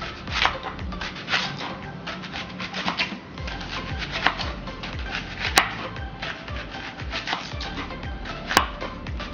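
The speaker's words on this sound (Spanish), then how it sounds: "Partimos nuestra cebolla en rodajitas." A knife slices half an onion into rings on a board, a steady series of close, soft cutting thuds with a couple of sharper clicks mixed in.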